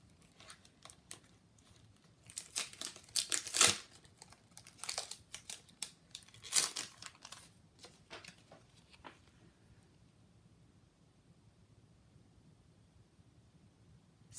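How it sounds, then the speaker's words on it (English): Stationery is pulled from crinkly plastic packaging, giving close, scattered bursts of crinkling and rustling that trail off into quiet. "Let me take it out of the plastic."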